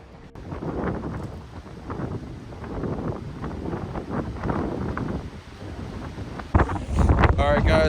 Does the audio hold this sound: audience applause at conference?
no